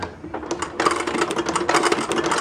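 An old Kenmore sewing machine stitches leather in a Western store's leather shop, a fast mechanical clatter of needle strokes that starts hesitantly then runs steadily, close and fairly loud.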